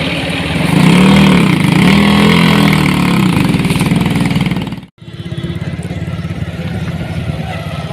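A tractor hauling a sugarcane trolley chugs loudly past on a road, its engine droning close and steady before a brief dropout, then continuing at a slightly lower level.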